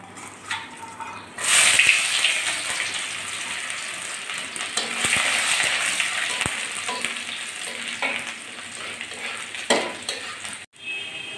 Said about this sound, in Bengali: এখন আমি একটু গোটা সাদা জিরে ফোড়নে দিলাম, আর দিচ্ছে এখানে একটা শুকনো লঙ্কা, রসুন কুচি আর তেজপাতা।